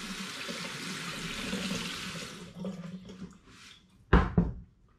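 A hot water tap runs steadily as a wine-making bung is rinsed beneath it, the broadband rush lasting a couple of seconds before easing into softer trickles, then two sharp nearby knocks or splashes near the end.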